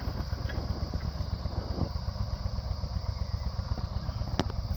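A tractor engine drones steadily while pulling a disk through a field, a loud continuous chugging with faint clatter and a few brief knocks.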